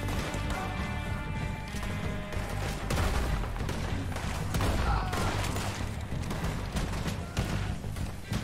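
Shotgun blasts in Red Dead Redemption 2 during a gang shootout, loud repeated bangs and crashes over dense game music and effects, with voices talking in the mix.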